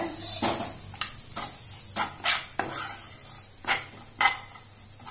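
Fresh grated coconut roasts in a little ghee in a pan for laddu, with a spatula scraping in about eight steady strokes over a constant close sizzle and nobody speaking.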